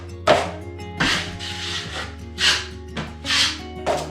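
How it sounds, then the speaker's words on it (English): A drywall knife spreads joint compound mud across drywall in a series of about six separate scraping, smearing strokes, close up, each a short rasp over a low steady hum, with no talking. "Spread it out, get plenty of mud on there."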